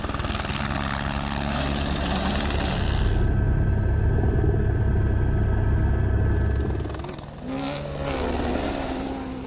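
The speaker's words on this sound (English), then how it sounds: "It's an Airbus H125. It's the Formula One of the helicopter." An Airbus H125 helicopter flies close by with a loud, steady rotor thump and turbine whine that swells, briefly dips, then returns.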